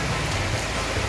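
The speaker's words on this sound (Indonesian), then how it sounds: "Apalagi cuacanya hujan-hujan gitu." Steady rain falls outdoors by a river during a wader fish harvest, an even hiss of drops on surfaces with no talking.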